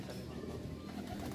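Pigeons coo softly in a low, murmuring, continuous burble, faint and close together, with no voices over it.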